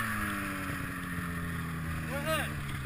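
A snowmobile engine drones steadily nearby with a constant low hum throughout, its pitch rising briefly near the end as the throttle opens, with wind noise over the microphone.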